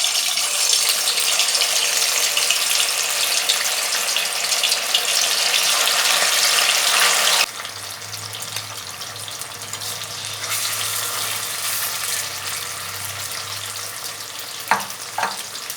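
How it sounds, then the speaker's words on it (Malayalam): Pieces of chicken deep fry in hot oil for crispy chicken fry, a loud, dense sizzle for the first half that drops to quieter bubbling over a low hum, with one sharp clink near the end. "നമുക്ക് ഇനി ഇതിനകത്തേക്ക് ചിക്കൻ ഇട്ടൊന്ന് വറുത്തെടുക്കാം."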